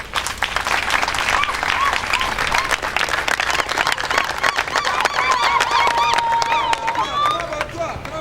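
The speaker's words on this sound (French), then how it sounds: "Félix Antoine Tshisekedi Tshilombo, à qui nous rendons nos hommages les plus déférents et à qui nous vous demandons les acclamations" Crowd applause and acclamation for the president at a formal public address in the Democratic Republic of Congo, a dense, loud, continuous roar of clapping with cheering voices and whistles rising through it.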